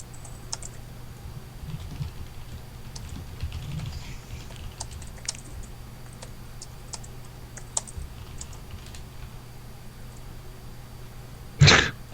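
Computer keys clatter in scattered light taps at a steady pace over a low background hum, ending with a sudden loud burst near the end.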